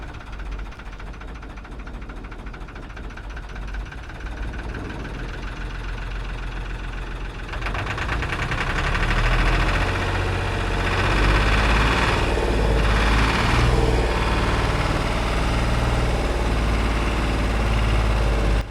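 A narrowboat diesel engine, restarted after a fuel fault, chugs steadily with a deep low rumble, growing louder and rougher partway through as revs rise, running on without pause.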